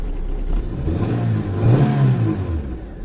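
A Mitsubishi Lancer GLXi engine with major parts faults is revved once, swelling from idle to a loud roar near the middle and settling back down, close and alone.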